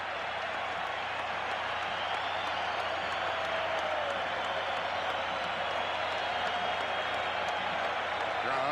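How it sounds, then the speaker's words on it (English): A baseball crowd at a World Series game in Atlanta, the Minnesota Twins visiting the Braves in 1991, makes a sustained wash of distant cheering and applause that swells slightly, with a play-by-play announcer talking over it. "Crowd trying to get back into it here in Atlanta."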